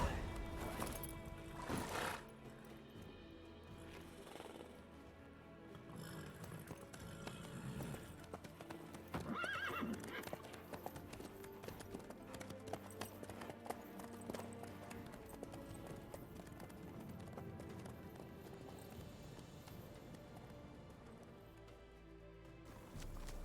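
Horse hooves clop steadily under a busy game soundscape in The Witcher 3, with a neigh rising midway and a continuous layer of music and ambience throughout.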